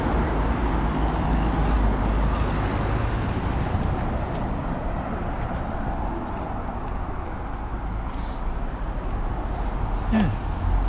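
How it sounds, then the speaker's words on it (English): Road traffic in Bracknell, with cars slowing down, heard as a steady, broad rumble of engines and tyres that swells and eases slightly throughout, with no clear voices. "cars are slowing down."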